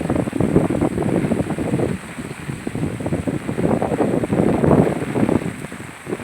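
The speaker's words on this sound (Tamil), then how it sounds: "இப்பயும் மழை பெஞ்சுன்னு தான் இருக்குது" Dense, hissing monsoon rain falls steadily in Chennai, swelling and easing in waves, with no one speaking.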